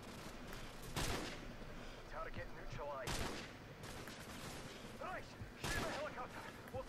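Gunfire aimed at a helicopter in Call of Duty 4: Modern Warfare, heard as a few heavy bursts and booms under a constant low game rumble, with whistling sounds in between.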